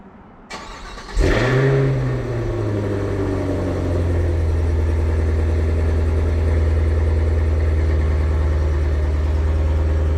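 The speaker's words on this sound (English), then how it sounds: "the cold start of an Escalade V, it's like NASCAR came to town" A Cadillac Escalade V cold-starts by remote: a short whir of the starter, then the engine catches with a loud surging flare that drops to a heavy, steady, rumbling high idle that holds close and unbroken to the end.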